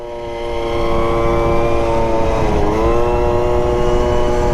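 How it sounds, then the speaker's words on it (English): A brand-new Suzuki Zuma scooter engine on its first ride revs up and holds a loud, buzzing drone close by, its pitch dipping briefly midway before climbing again. "Very loud still, this bike."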